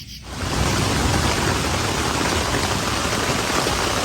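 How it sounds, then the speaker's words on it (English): Heavy rain pounding a tent at a Long Island, New York campsite during an all-night storm, a loud, close, unbroken hiss that swells in within the first half second and holds steady. "It's raining like crazy."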